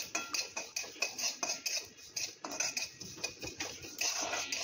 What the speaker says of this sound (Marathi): तीळ भाजताना आपल्याला ते सतत हलवत राहायचे आहे